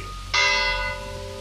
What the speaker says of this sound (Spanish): A lo lejos empezaron a doblar las campanas.